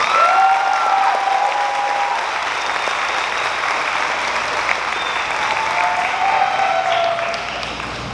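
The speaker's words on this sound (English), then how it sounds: "Give a nice round of applause" Steady applause from a sizeable audience at a graduation ceremony, sustained clapping filling the whole stretch with a faint whistle-like tone running through it.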